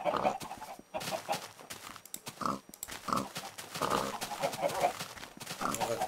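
Chickens and pigs in the video game Minecraft cluck and grunt in short, repeated bursts, close and moderately loud, with someone talking over them.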